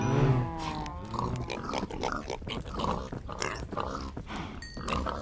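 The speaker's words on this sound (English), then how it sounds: "Are you all fed? Are you all happy piggies?" Several Minecraft pigs grunt and oink close by in a steady, overlapping stream, loud and continuous throughout, with no talking over them.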